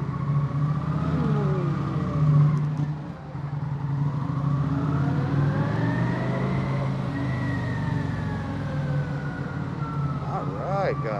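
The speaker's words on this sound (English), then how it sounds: "I like these ramps on the motorcycle." Motorcycle climbing parking garage ramps in a Rayong, Thailand community, its engine close and steady, the pitch rising and falling in smooth sweeps as it revs through the turns, with echoing surroundings.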